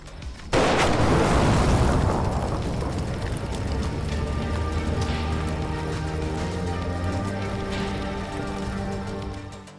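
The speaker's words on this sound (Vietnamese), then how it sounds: "Jarrod tức giận đuổi Teen 6 đi và nổ súng bắn cháy chiếc xe van trong sự giận dữ tột cùng." A sudden loud blast from a van exploding in the video game Road 96, followed by a long crackling, rumbling decay with scattered sharp pops, heard without speech.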